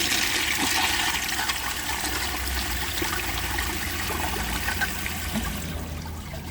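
A 1934 Bowers Pottery toilet flushing a dish towel: a loud, steady rush of water swirling for several seconds, then thinning toward the end, with no talking.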